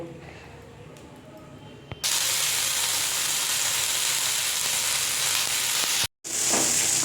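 A spice paste for aloo dum hits a hot pan and sizzles loudly, a sudden sustained frying hiss that cuts in after quieter kitchen noise and continues nearly unbroken.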